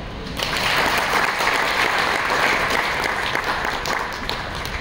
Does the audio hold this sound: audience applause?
yes